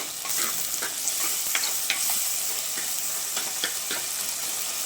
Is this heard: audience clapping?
no